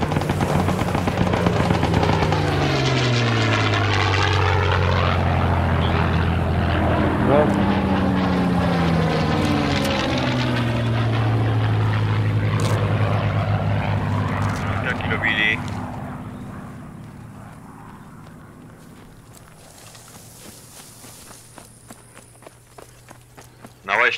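A propeller aircraft flies over in the WWII shooter Post Scriptum, a loud droning engine whose pitch sweeps downward as it passes and fades into the distance, with players talking over it and gunfire nearby.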